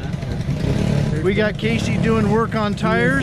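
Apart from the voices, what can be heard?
Briggs LO206 kart engines roaring at racetrack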